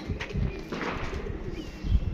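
Pigeons in a loft give soft, low coos in short repeated pulses, faint and close, with light rustling between calls.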